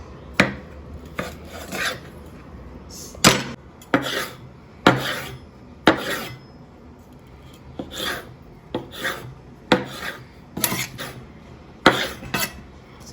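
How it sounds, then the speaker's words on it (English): Tomatoes are chopped into big chunks with a knife on a cutting board: a steady series of crisp chops and scraping strokes, repeating roughly every second, close up with no talking. "Next we are going to chop the tomatoes quite big so that we are going to grind them into a paste."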